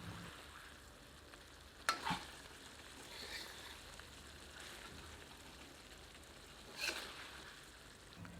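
Chicken-stuffed chillies frying on high heat in a pan, a steady soft sizzle running throughout with two sharp metallic ladle scrapes and clanks standing out.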